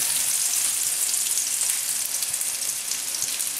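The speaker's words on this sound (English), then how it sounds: "we need to fry that off to get the flavour, the colour" Chorizo spicy sausage frying in a pan, a steady, loud, bright sizzle crackling evenly throughout with no talk.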